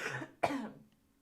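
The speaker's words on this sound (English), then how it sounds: "I also have to cough, and you're just going to have to listen to it." A single harsh cough from a person with a lingering cough caught on a flight, with a brief throaty lead-in and then one loud burst that trails off, heard close and alone.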